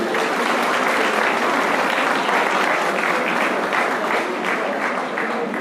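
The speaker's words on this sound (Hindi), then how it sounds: "दीदी के लिए जोरदार तालियां हो रही है।" An audience at a university stage event applauds loudly for a woman called Didi, dense continuous clapping filling the room at an even level throughout.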